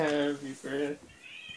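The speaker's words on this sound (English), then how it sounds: "It's a cat in the background." A cat meows twice in the background during an online Re-Volt racing match, close and clear, with a person talking over it.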